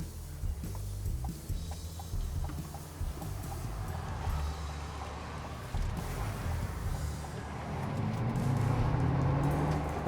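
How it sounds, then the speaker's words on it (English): A GMC HUMMER EV electric truck drives along, giving a low steady rumble of tyres and road noise from inside the cabin that swells toward the end, with a faint rising whine and no talking. "let's get behind the wheel and let Josh drive the HUMMER EV for the very, very first time"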